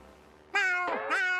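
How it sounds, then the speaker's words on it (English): Gary the snail from the SpongeBob cartoon gives two loud, clear cartoon meows in quick succession, close and bright, after a quiet lead-in. "Are your snails still meowing?"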